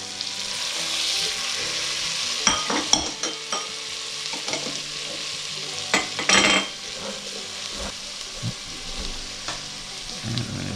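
Onions, celery and carrots sizzle in a pot for chicken stew, a soft steady frying hiss with intermittent spoon scrapes and clinks as the vegetables are stirred, close, with no speech.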